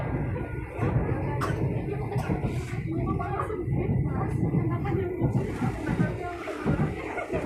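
A low, rumbling rattle of the rearmost carriage of the Argo Cheribon train rolling along the rails between Tegal and Bekasi, with rhythmic clacks and a voice talking faintly over the steady noise.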